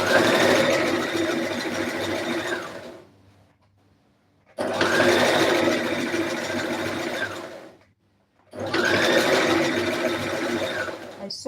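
A sewing machine stitching a red carpet dress runs in three long, loud bursts of steady whirring, each lasting a few seconds, separated by brief pauses of near silence.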